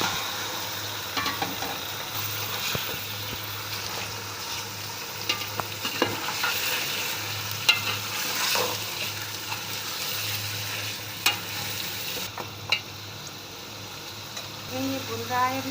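Meat for nahari fries in a pot with garlic and ginger and is stirred, giving a steady close sizzle with scraping stirs and occasional clinks throughout. A voice talks now and then over it.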